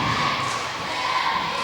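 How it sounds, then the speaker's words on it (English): A packed high school girls' basketball gym after a foul, the crowd cheering and roaring in a loud, continuous wash that fills the whole space without any clear breaks. "Listen to the crowd reaction."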